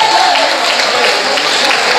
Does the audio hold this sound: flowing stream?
no